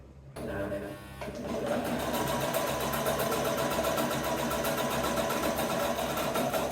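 A sewing machine whirs steadily at a rapid rhythmic pace, stitching continuously after a brief quiet start, close and moderately loud.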